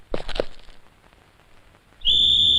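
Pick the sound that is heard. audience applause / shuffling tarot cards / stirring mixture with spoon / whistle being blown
whistle being blown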